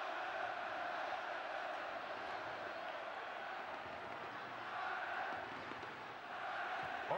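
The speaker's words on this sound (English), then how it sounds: "The crowd get behind England at last." A football stadium crowd at an England versus Ireland match roars and chants steadily in support of England, a broad, distant wall of voices that swells slightly near the end.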